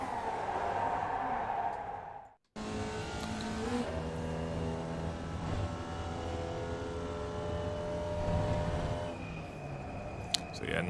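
A Formula Vee race car laps Tsukuba Circuit in iRacing, its engine droning steadily with a rising and falling harmonic whine as it shifts and accelerates, heard close from the cockpit after a brief cut to silence.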